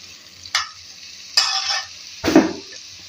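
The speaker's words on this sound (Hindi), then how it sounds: "अच्छे से मिक्स करेंगे और 3 से 4 मिनट इनकी भुनाई करेंगे।" Raw mango pieces are stirred and fried in a pan for kari chutney, with three separate bursts of loud, close sizzling as the spoon moves them and quiet between the bursts.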